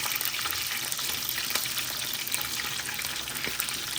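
Hot oil crackles and spits steadily in a pan as onions fry for noodles, a dense, continuous sizzle with small sharp pops throughout, close and fairly loud, no voices.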